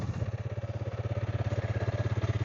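A motorcycle engine idles after an oil change, a fairly quiet, even low thumping pulse with a steady rhythmic beat and nothing else over it.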